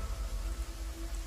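Steady nighttime rain falls on surfaces in an even, soft wash with no break, a faint low rumble beneath it and no voices.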